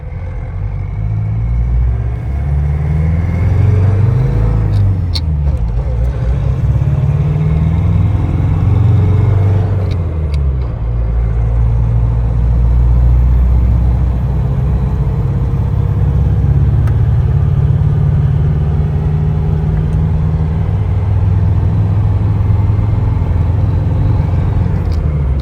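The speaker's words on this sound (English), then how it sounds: "Does have the 5-speed manual transmission in it with that Cummins diesel engine" A 1989 Land Rover Defender 110 with a Cummins diesel engine and 5-speed manual transmission on a test drive, a heavy low diesel drone inside the cab that rises and falls through gear changes, with occasional clicks and no talk.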